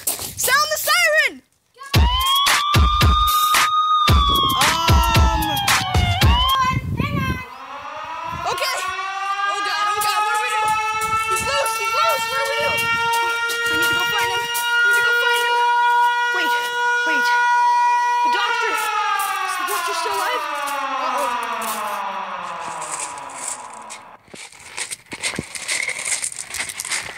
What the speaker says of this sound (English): Sound the siren.